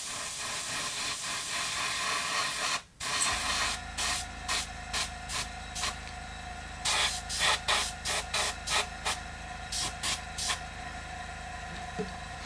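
Spray paint is applied to the tail of a custom glide bait fishing lure: one long hiss, a brief pause, then a series of short, evenly spaced spray bursts close to the microphone against a quiet steady hum.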